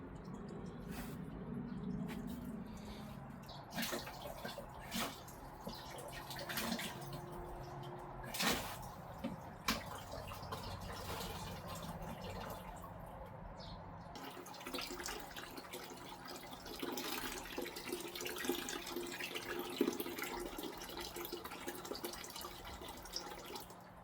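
Water runs steadily through an AQQA aquarium siphon vacuum as dirt is drawn out of the tank, a continuous trickling and gurgling flow with scattered drips and knocks, close and fairly quiet throughout, with no talking.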